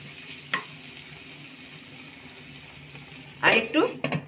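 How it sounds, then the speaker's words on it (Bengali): Kasuri methi and garam masala being stirred into palak paneer in a pan, with a faint background sizzle and a quick scrape early on, then a louder burst of stirring and scraping near the end. "আর একটু গরম মশলা দিলাম, ভালো করে মিশিয়ে নেব"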